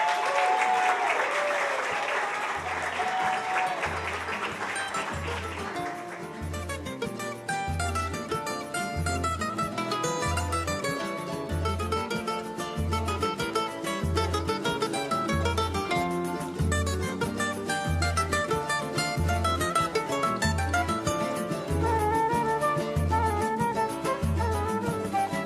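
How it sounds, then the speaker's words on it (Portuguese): A crowd applauds at the Liga Carnavalesca de Caxias do Sul carnival awards ceremony, with a dense burst of clapping at first, then sustained applause under loud rhythmic music with a steady beat. "Palmas para as nossas baianas."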